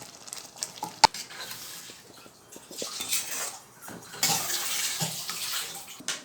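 Liquid pours and splashes into a hot pan of mushroom gravy with a bubbling, sizzling wash of sound, loud and close, with a sharp clink near the start.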